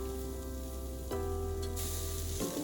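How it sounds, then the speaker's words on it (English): Steady loud sizzling of four pork chops frying on a greased fire-pit grill, a continuous crackling hiss with occasional shifts in intensity, close up. "Drop on 4 pork chops. I have greased the grill."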